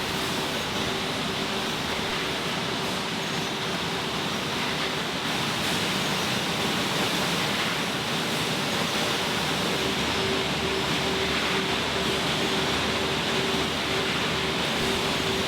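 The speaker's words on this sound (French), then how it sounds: "Dans la remplisseuse, l'étoile de distribution achemine les bouteilles pour être rincées, remplies et bouchonnées" A rotary bottle filling machine rinsing, filling and capping bottles on a production line, producing a loud continuous rushing mechanical wash with a faint steady whine running beneath it.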